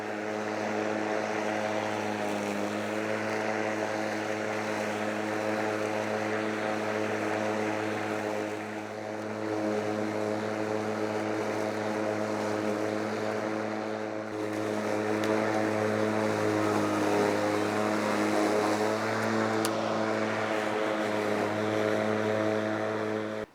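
LawnMaster 19-inch cordless mower (CLMF4819A) cutting long, tough grass on a lawn, with a continuous whirring motor drone that stays steady and fairly close throughout and rises slightly near the end, no voices.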